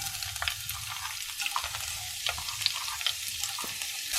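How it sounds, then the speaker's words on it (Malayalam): Chopped onion, dried red chillies and curry leaves fry in hot oil for a Kerala dal curry, a steady close sizzle with soft crackles and occasional stirring scrapes, no voices. "ഇനി അതിലേക്ക് നമുക്ക് ഉള്ളി അരിഞ്ഞത്, വറ്റൽമുളക്, കറിവേപ്പില എന്നിവ നമുക്ക് ഇതിലേക്ക് ഇട്ട് കൊടുക്കാം."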